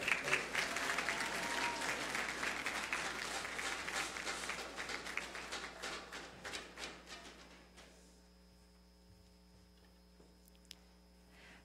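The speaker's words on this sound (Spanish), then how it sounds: "Fuerte el aplauso." A crowd applauds a medal recipient at a regional final ceremony in Los Santos province, the clapping loud and dense at first, then thinning into scattered claps and fading to a quiet, humming room.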